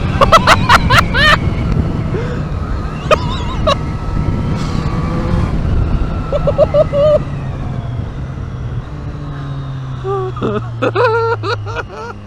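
Engine of a 2023 Triumph Street Triple R motorcycle on an open road, droning steadily with rising and falling revs, loud and close amid strong wind noise, with occasional shouted exclamations over it.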